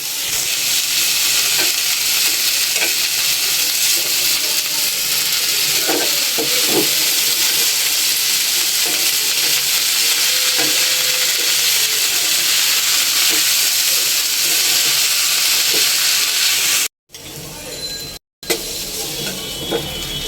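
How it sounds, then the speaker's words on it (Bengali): Greens with radish and potato stir-frying in a hot pan, giving a steady loud sizzle and hiss throughout with light scraping and stirring clicks, broken by two brief dropouts near the end. "এই যে মূলা দিয়ে আর আলু দিয়ে পাতুরি রান্না করছি, এটা শাক"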